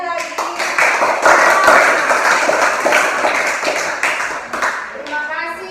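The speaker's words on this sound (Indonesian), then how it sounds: "tepuk tangan sekali lagi." A classroom group of children claps hands together in a quick, uneven rhythm, loud and close, with sharp individual hand strikes and a brief voice near the end.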